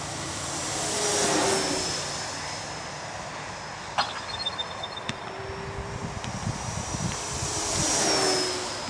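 A small ParkZone Corsair model propeller airplane drones overhead in a park, its whine rising and fading as it passes by, with a quieter stretch in the middle.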